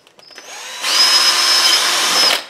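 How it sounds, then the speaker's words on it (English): A power drill with a quarter-inch bit bores through a Kydex knife sheath, first a few brief taps, then a steady high whine for about a second and a half before it stops. "I'm going to drill. I'm using a quarter inch drill bit because I'm using quarter inch eyelets."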